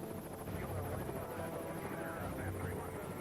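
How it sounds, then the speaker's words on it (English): Marine One and two identical presidential helicopters fly in the sky above Washington, giving a steady rotor and engine drone under a talking voice. "In the sky above Washington, 2 identical helicopters join the president's white top in an aerial dance of deception"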